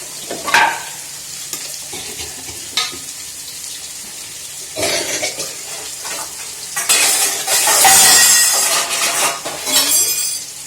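Chickpeas and Malabar spinach fry in a pan, bursts of hissing sizzle rising and falling with scraping stirs and metal utensil clinks against the pan, loudest toward the end.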